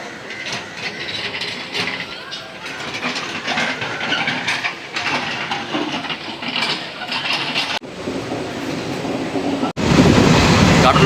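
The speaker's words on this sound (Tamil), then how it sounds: "கடலூர் ரயில்வே ஸ்டேஷன் இப்போ கிளம்பி போயிட்டே இருக்குது" A passenger train departs Cuddalore railway station on a Trichy to Tambaram special express, with a rattling, clanking mechanical roll that stays close and steady, then a sudden surge of rushing noise near the end.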